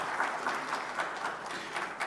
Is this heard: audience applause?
yes